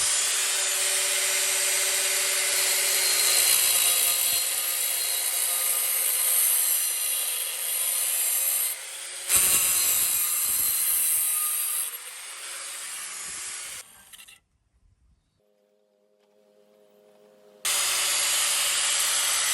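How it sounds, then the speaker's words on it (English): An angle grinder with a very thin cutoff wheel, about 1/16 inch, cuts through a metal keg-style motorized bike gas tank with a loud sustained whine, pausing briefly mid-cut, then spinning down to quiet before restarting. "I'm using an angle grinder with a cutoff wheel, a really thin one"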